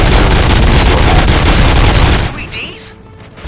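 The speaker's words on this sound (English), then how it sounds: "Gunshots? What's going on?" In the Robocop: Rogue City video game, rapid gunfire rattles loudly in a dense, continuous burst like a fusillade for about two seconds, then cuts off to quieter ambience with faint game sounds.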